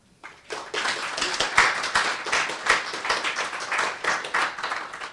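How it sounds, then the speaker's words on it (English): An audience at a creative writing club reading gives the readers a warm round of applause, dense hand clapping that starts abruptly and carries on steadily for several seconds, close and lively. "Maybe another round of applause for the readers."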